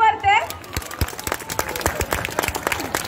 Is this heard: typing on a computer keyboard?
no